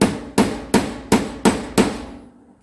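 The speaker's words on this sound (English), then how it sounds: "You got a hammer. You just hammer onto this." Six sharp metallic hammer blows strike a center punch into scrap steel, evenly spaced and ringing briefly, the last one decaying into silence.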